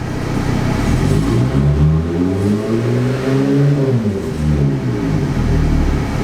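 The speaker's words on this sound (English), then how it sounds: "The rattling is the clamp sitting there rattling on top of this exhaust" Jeep Gladiator with a DIY exhaust revs up and settles back, a deep rumbling engine rising and falling in pitch twice, loud and close, with a loose exhaust clamp rattling on top of the pipe.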